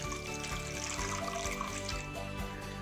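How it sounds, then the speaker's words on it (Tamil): Water is poured into a cooking pot for making shark puttu, a soft trickling and splashing stream heard over a faint steady tonal background. "இன்றைக்கி கொஞ்சம் தண்ணி போட்டுக்கலாம்."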